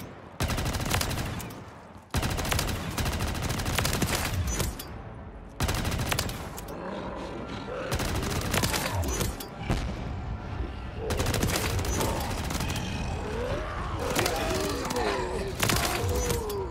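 Sustained bursts of machine-gun fire in GTA V, loud and dense with rapid rattling volleys, brief breaks between bursts, and scattered impacts and game sounds layered underneath.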